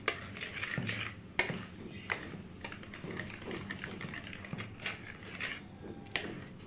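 Mango ice cream mixture with custard is stirred by hand in a bowl, making a steady, close wet scraping and clicking texture with frequent small sharp knocks throughout.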